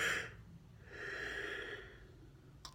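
A person yawns once, a drawn-out breathy exhale that rises and fades over about a second, heard close and fairly quiet after a short sniff, with no talking.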